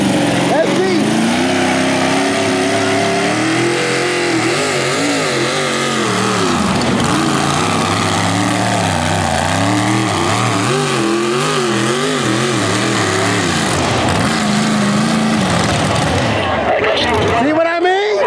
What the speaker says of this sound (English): keep in mind, this tractor might cut off during this pull